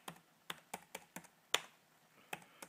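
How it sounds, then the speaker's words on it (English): Typing on a computer keyboard, about a dozen separate, close key taps in an uneven rhythm with one sharper, louder clack midway, in a quiet room with no talk. "Go over here to your computer and type in sacred geometry."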